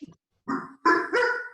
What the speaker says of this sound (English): That's one of my dogs.